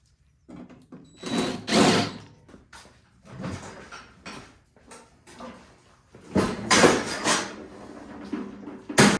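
Bolts being driven back into a snow blower's cover with a power driver, several separate short whirring bursts close by, broken up by brief clanks and handling noises.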